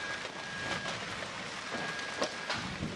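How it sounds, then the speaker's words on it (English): Giant hailstones pelt down during a thunderstorm in Dongguan, Guangdong, South China, making a steady, dense hiss of impacts with a few sharper hits standing out. "Giant hailstones have rained down on South China's Guangdong province"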